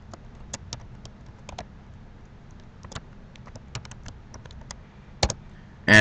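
Keyboard keys click in quick irregular bursts while keyboard shortcuts are pressed to format Java code, close and fairly quiet, with short pauses between strokes and a louder thump at the very end.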